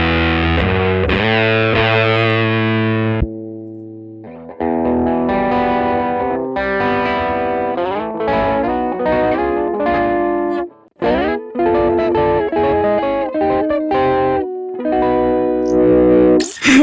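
An electric guitar through a ToneX Max amp model called low bias Lily plays distorted chords and melodic phrases, loud and close, with short pauses between passages.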